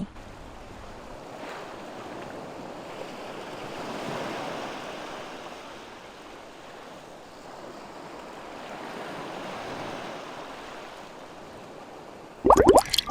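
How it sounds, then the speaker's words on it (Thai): A musical item in Sky: Children of the Light plays an ocean waves sound: a steady, soft wash of surf that swells and recedes for several seconds, ending with a brief louder burst of tones. "น้องเนี่ยก็จะเปล่งเสียง คลื่นท้องทะเลให้เราได้ฟังกันนั่นเองอะ"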